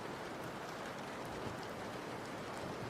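Steady rain hisses without pause in a dense, even wash of drops, close and moderately loud, played as a joke stand-in for a metal album, with no voices.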